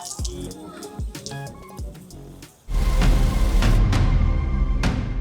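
Beach shower on a Black Sea resort beach at St. Constantine and Helena, first a few trickles and drips, then water gushing on with a loud, steady splashing rush.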